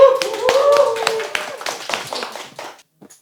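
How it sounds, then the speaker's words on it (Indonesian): An audience applauds a guest at the start of a podcast, a short burst of close hand claps that thins out and fades after about two and a half seconds, with voices mixed in. "Tepuk tangan buat Mbak Arohma Sukma."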